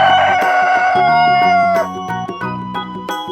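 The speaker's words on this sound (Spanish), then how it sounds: "El gallo." A rooster gives a loud, close cock-a-doodle-doo crow that rises and then falls away, followed by a few clucks on a farm.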